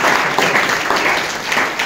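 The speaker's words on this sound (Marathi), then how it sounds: "एकदा जोरदार टाळ्या वाजवल्या" A crowd of students and guests at a village school event in Chinchpada breaks into loud, steady applause that fills the whole short moment, with no pause.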